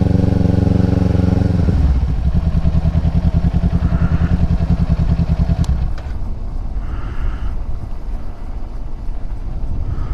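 A motorcycle engine on a Sunday morning coffee ride, a loud close rumble that drops from a heavy throaty roar to a lighter steady idle pulse partway through.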